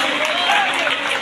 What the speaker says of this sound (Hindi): जोरदार तालियों से ये स्वागत आप सबकी ओर से